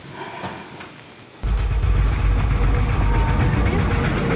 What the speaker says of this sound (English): That's the motor tapping because of the oil and the water is mixing.